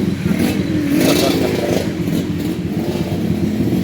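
A Yamaha RX King motorcycle engine, freshly tuned up, revs loudly and close by, rising and falling in quick surges over a rough, rattling idle. No voices are heard.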